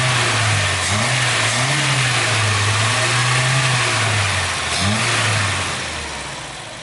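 A project car's engine runs close by at a steady idle, with short blips of revving early on and again near the end before the sound eases off slightly.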